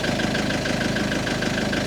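An older Frankia motorhome on an Alko chassis idles steadily, a continuous even engine rumble with a faint regular tick, close and fairly loud, with no talking.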